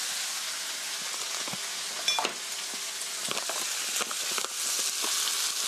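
Shredded cabbage and carrot frying in a pan for a pork curry rice bowl, a loud continuous sizzle with occasional stirring scrapes and clacks, close up and without voices.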